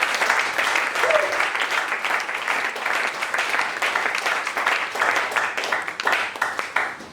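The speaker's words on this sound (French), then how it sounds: "Est-ce qu'on peut acclamer le Seigneur?" A church congregation applauding the Lord, with sustained dense clapping filling the whole stretch at steady strength, mixed with cheering voices.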